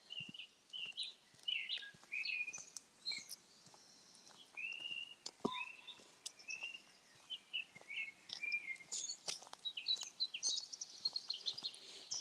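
Songbirds near water chirp and trill in quick, scattered bursts, fairly close and clear over quiet ground, with a faint rush of water and footsteps beneath.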